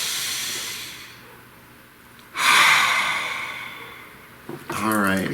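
A close, loud deep breath: a long hissing inhale followed by a slow, airy exhale, with a quieter breath before it and a voice starting at the end.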